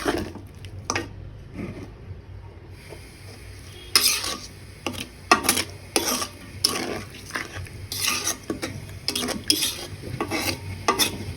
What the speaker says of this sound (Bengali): মাংসটাকে এখন আমি ভালো করে কষিয়ে নিব।